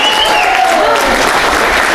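A live comedy show audience breaks into steady, full applause, a continuous wash of many hands clapping nearby, with a faint whistle gliding through the start.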